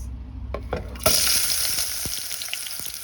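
Onions hit a hot pan and start frying with a sudden crackling sizzle after a few light knocks. A bright, close hiss then carries steadily with scattered pops.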